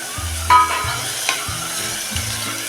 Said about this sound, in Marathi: आता आपण थोडा वेळ परतूया आणि त्यामध्ये हे वाटाणे टाकून घेऊया